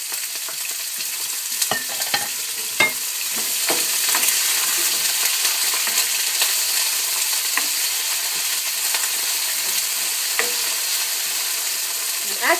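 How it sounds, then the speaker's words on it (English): Frozen broccoli and garlic fry in a hot pan with a continuous close sizzle, broken by occasional sharp clicks and scrapes of stirring. "we're just going to throw that right in the pan"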